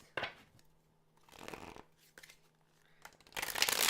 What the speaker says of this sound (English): shuffle the cards